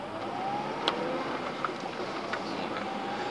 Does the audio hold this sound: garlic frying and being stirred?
no